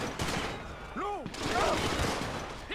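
Gunfire in GTA 5 during an LSPDFR SWAT police patrol, with loud bursts of shots and chaotic action noise throughout, punctuated by sharp effect sweeps in the middle; voices talk over it.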